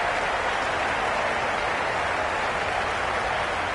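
Steady, dense crowd roar from a packed cricket ground in Cricket 22, a continuous wash of cheering and applause-like noise holding at an even level throughout with no distinct peaks.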